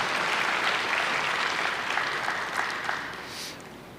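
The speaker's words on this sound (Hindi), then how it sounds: "ताली बजानी होगी" An audience at a spiritual discourse claps steadily for about four seconds, a dense, even patter of many hands that softens slightly near the end.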